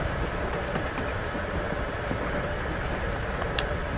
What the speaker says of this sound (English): Guess we're not the first ones to hop on this train